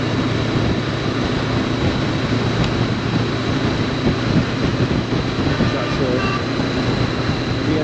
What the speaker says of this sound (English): There's a train, a rail car, that one,